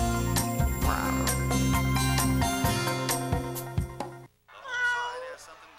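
Cats meow repeatedly in a rhythmic, almost sung pattern over a bouncy backing tune, loud and continuous, then a short pause and one more meow.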